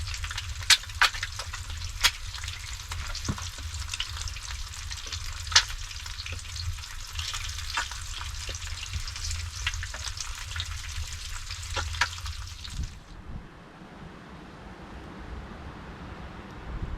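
Lard frying in a pan inside a forest dugout: a loud, steady hiss and sizzle with scattered sharp pops and crackles, then dropping to a quieter background near the end.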